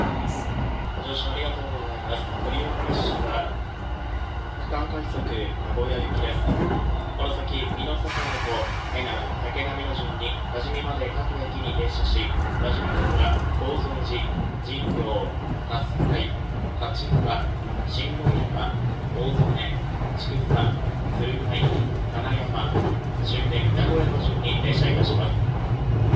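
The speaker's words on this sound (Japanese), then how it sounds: "さあ、列車は最初の停車駅美濃坂本に停車をしていきます。" Interior of a JR Central semi-rapid Chuo Line train bound for Nagoya, slowing into a station: continuous rumbling and rattling of wheels and car body with squeaks, under ongoing announcements and talk throughout.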